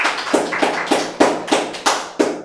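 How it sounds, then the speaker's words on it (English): Hands clap in a slow, even rhythm at a chess debate, about eight sharp, close claps spaced roughly evenly over a couple of seconds, each fading quickly. "let us please reserve the claps for when we ask for applause"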